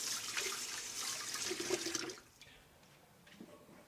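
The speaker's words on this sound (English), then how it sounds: "Just going to rinse my hands off a bit." Water runs steadily from a tap as hands are rinsed under it, a close, continuous splashing hiss lasting about two seconds before it shuts off, leaving only faint room tone and a small clink.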